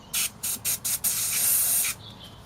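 Brake cleaner sprays onto the washer pump filter of a Honda Civic MK8, first in four short bursts and then one longer continuous hiss, all close and fairly faint.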